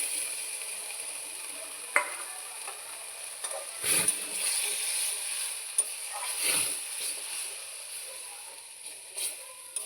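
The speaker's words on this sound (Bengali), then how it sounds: "জল দিয়ে বাটিটাকে ভালো করে ধুয়ে সম্পূর্ণভাবে দিয়ে দিলাম" Water poured into a pan of sizzling fish spice paste for a Bengali curry, a steady hiss of frying with a few clinks and stirring scrapes, faint and continuous throughout.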